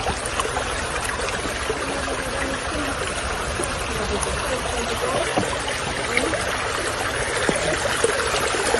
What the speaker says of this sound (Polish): Wyłączę na chwilę muzykę, żebyśmy posłuchali strumyk.